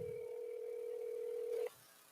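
A telephone dial tone hums as one steady, unbroken pitch for about a second and a half, then cuts off abruptly, leaving faint background hiss with no talking.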